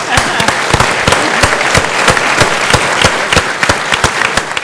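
An audience applauds city planning at a New York City zoning discussion. Loud, sharp individual claps ring out close by in an uneven but steady patter that lasts throughout.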